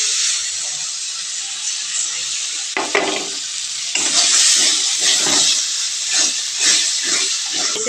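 Tomato paste goes into a hot pan of spiced fish with cauliflower, giving a loud, steady sizzle and hiss with scraping stir strokes that grow busier partway through.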